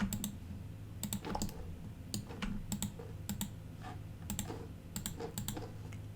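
Computer keyboard typing during 3D modeling work in Fusion 360: close, crisp key clicks arrive in short irregular bursts over a low background hum, with no talking.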